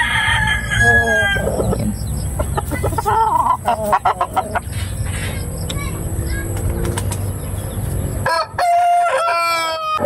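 A hen crowing like a rooster in a Philippine backyard yard near a game farm, several strained crows and clucks rising over steady background hum, with someone talking over parts of it.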